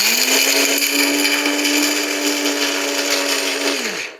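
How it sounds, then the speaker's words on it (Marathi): A kitchen mixer grinder whirs steadily at full speed as it grinds roasted coconut, sesame seeds and whole spices, a loud continuous motor hum that runs alone for about four seconds before winding down. "हे भाजलेले खोबरं, तीळ आणि खडे मसाले मिक्सरमध्ये काढलेत"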